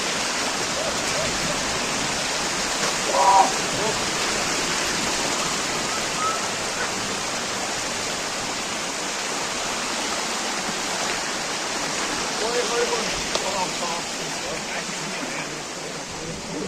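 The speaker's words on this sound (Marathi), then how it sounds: "ते धबधबे वगैरे वाहत आहे तिथून" A waterfall at Antur hill fort near Chhatrapati Sambhajinagar pours in a constant, full roar that holds steady throughout with no pauses.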